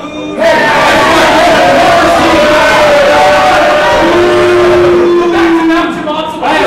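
Crowd at an indoor professional wrestling event, a loud sustained roar and chanting filling the hall, with a long shouted vocal tone rising above it before fading slightly at the end.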